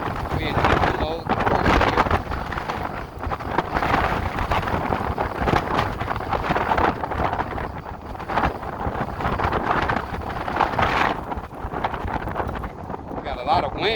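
Strong wind buffeting the microphone while riding an electric motorcycle, a loud, continuous low roar with gusts, and someone talking over it.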